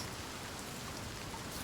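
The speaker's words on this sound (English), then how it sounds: "The rain never stops." Steady rain in the video game Senua's Saga: Hellblade II, a soft even hiss of falling drops, faint and continuous with no voices.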